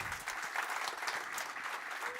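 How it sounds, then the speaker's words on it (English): Warm, steady applause from a conference audience at a Nordic reform gathering, dense and even in loudness across the whole stretch. "I hope to give a warm applause to Anna Heifet."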